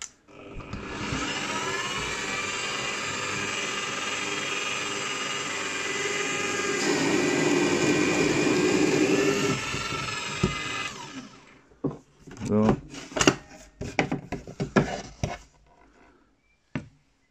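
A Presch HSS cobalt wood drill bit bores into coated board with a loud, continuous whining grind for about eleven seconds, then stops, followed by scattered knocks and clatter of handling.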